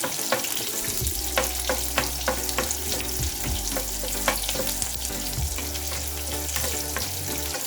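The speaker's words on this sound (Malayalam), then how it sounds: "കൊച്ചുള്ളി ഒരു 4 എണ്ണം അരിഞ്ഞതാണ്, അതുകൂടെ ചേർത്ത് ചെറുതായി ഒന്ന് വഴറ്റിയെടുക്കുക." Chopped shallots and curry leaves sauté in oil in a pan for a Kerala tomato and drumstick curry, giving a steady, close, dense sizzle broken by sharp clicks and scrapes of stirring, with no talking.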